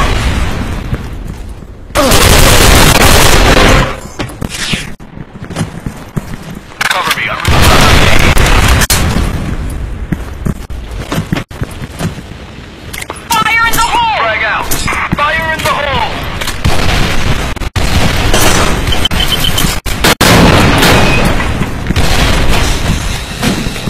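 Loud, close booming grenade explosions and heavy gunfire in a competitive shooter video game tournament match, repeated blasts over roughly twenty seconds with game voice callouts and speech between them.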